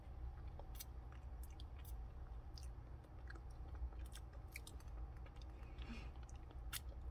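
Someone eating a Korean convenience-store bibimbap with winter cockles, sesame oil and sauce, with soft close chewing and small wet crunchy bites over a low steady background hum, no talking.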